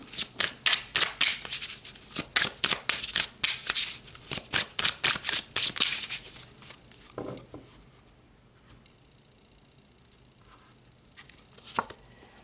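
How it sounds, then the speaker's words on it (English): Tarot cards being shuffled in quick, crisp bursts of riffling and flicking for about six seconds, then a quieter stretch with a few soft card slides and a single tap near the end. "So let's pull another card."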